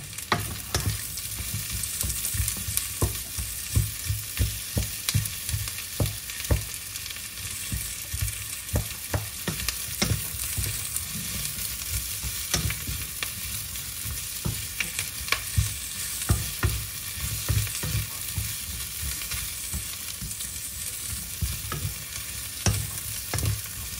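Squash and green beans with shrimp paste sizzle steadily in a frying pan, with frequent scraping stir strokes from a utensil throughout, close and fairly loud with no talking.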